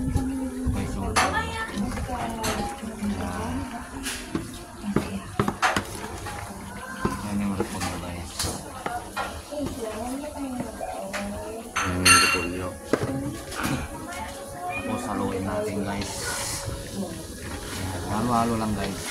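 Cabbage dropped into a pan and stirred while cooking pigar pigar in Pangasinan, with scraping, clinking utensil knocks and sizzling under steady talking throughout.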